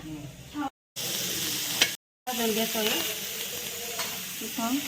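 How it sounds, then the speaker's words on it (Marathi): Tomatoes fry in a pan with a crackling sizzle and scraping stirs, the sound broken by two short gaps and joined by faint voices in the background. "टमाटे झाले थोडे फ्राय"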